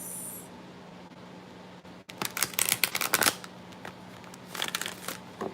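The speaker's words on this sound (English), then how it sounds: "These cards are kind of hard to shuffle too." A deck of cards is riffled in quick flurries of crisp flapping and snapping, close by, after a quiet start with a low steady hum.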